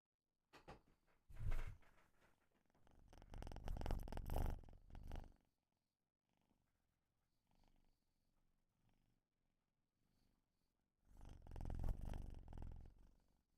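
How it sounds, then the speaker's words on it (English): A cat purrs loudly and close, with rumbling swells in two long stretches split by a quieter gap. "He's purring so loud."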